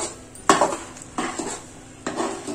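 Thick kali dough is worked in a pot, giving three separate scraping, knocking strokes of a utensil against the metal, close and fairly loud, with quiet pauses between.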